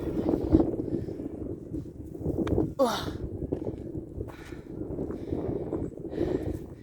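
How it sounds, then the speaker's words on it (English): Gusting wind on a mountaintop buffeting the microphone with a low, steady rumble, while a person talks throughout. "there's a wind up here on the top of this mountain"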